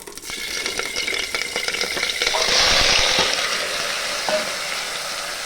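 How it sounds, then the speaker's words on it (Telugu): Mutton sizzles and fries steadily in hot oil inside a pressure cooker, a dense close crackle that swells louder midway, with occasional stirring scrapes and no talking. "ఇప్పుడు మనం ముందుగా కొంచెం ఆయిల్ తీసుకుందామండి కుక్కర్లోన ఓకే మళ్ళీ ఫ్రైలోకి తీసుకుంటాం కదా సరిపోతుంది ఇప్పుడు దీంట్లోకి మటన్ వేసేద్దాము"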